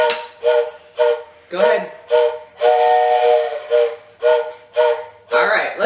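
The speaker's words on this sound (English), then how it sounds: "blow your whistle one more time before we move on to the next spot" Steam train whistle at a White Mountains railway in Conway, blown in a rhythmic series of short loud chords with one longer held blast midway, about a dozen toots in all, with a voice briefly heard.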